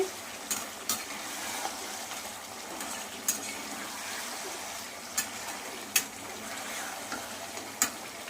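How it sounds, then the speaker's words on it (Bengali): Chicken tossed with chicken masala in a hot pan for a home-style country chicken and potato curry, a steady soft sizzle with scattered sharp clicks of a spatta against the pan, no voices. "দেওয়ার পরে আবার কষিয়ে নিচ্ছি"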